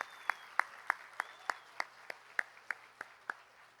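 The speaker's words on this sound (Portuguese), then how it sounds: "Uma salva de palmas à Estação Primeira de Mangueira." About a dozen sharp, evenly spaced claps ring out at a steady beat for Estação Primeira de Mangueira at the opening ceremony of a national communications congress in Rio de Janeiro, fairly faint and with no voices.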